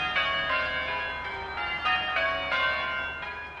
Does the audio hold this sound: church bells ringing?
yes